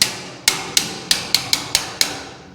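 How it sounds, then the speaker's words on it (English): A cat's paw hammer taps a drive cleat onto sheet metal ductwork: seven sharp, ringing metallic strikes in an uneven rhythm, close and crisp, with nothing else in the background. "Oh, I got a real appropriate hammer, cat's paw."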